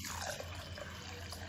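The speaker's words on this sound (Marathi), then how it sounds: "तर आपण यात पाणी घालून" Water pours into a bowl of washed whole green mung beans and split mung dal set to soak, a short close splashing and filling sound with a low steady hum underneath.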